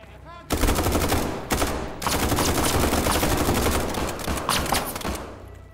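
Pistol fire in the horror shooter SCP 5K, heard as rapid, loud, continuous bursts of gunshots close by, with brief pauses between volleys.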